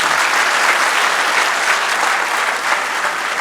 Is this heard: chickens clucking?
no